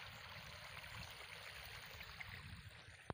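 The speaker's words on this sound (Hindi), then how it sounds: "ये देखिए सारा चलते हुए पानी आ रहा है" Rainwater running steadily through a flooded area after heavy rain in Haroonabad, South Punjab, a continuous close trickling and gurgling wash with no break.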